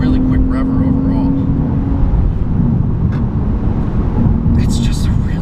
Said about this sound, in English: Really revs it out. This engine loves to hit the red line, loves it